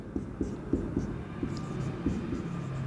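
Pen scratching across paper while working a basic geometry problem, a quiet run of short strokes in an uneven rhythm over a low room hum.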